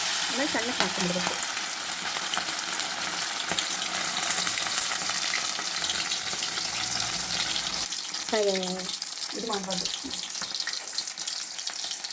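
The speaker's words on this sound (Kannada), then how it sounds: "ಇದನ್ನು ಡೀಪ್ ಫ್ರೈ ಅಂತಾರೆ" Masala-coated mackerel sizzles and crackles steadily while deep frying in hot oil, a constant loud hiss throughout, with a voice briefly speaking over it near the start and end.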